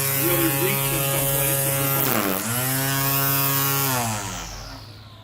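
Ryobi battery-operated string trimmer and edger running steadily close by with a high electric buzz, briefly dipping in pitch midway before winding down at the end.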